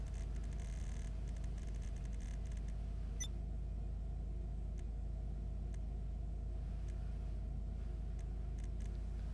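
Imponte Phoenix muscle car in GTA Online, a low steady engine rumble idling in the background, fairly quiet and continuous, with a couple of faint clicks.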